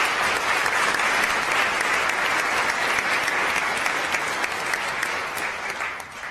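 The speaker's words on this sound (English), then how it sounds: "Please, let's give all of our superstar honorees one more round of applause." An audience at the Florida Pro Bono Awards ceremony claps for honorees in loud, sustained applause that fills the room and tapers slightly at the end.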